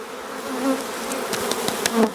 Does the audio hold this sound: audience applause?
no